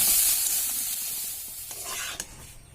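Tok bahan chow mein noodles stir-fried in a pan, giving a bright steady sizzle with soft scraping stirs, close and fairly quiet.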